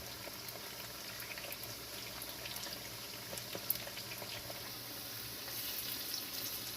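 Plantain frying in hot oil, a steady soft sizzle and crackle with occasional small pops, continuous and fairly quiet throughout, a little louder near the end.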